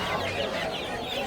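Chickens and chicks cluck and cheep in a dense, close, continuous chorus at a traditional poultry market in Narayanganj.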